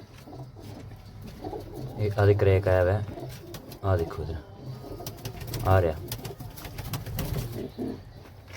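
Pigeons in a coop coo softly in short bursts, fairly close, while someone talks over them and a low steady background hum continues.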